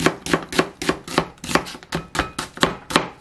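A knife chops a medium onion into strips on a cutting board for japchae, making steady, evenly spaced crisp knocks, about four per second, close and clear with no talking.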